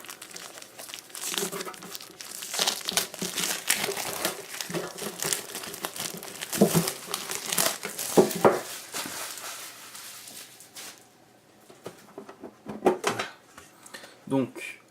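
A Yu-Gi-Oh Tin Box is unwrapped by hand, with crinkling plastic, tearing and metal tin clatter coming in irregular bursts at close range, while a person talks throughout.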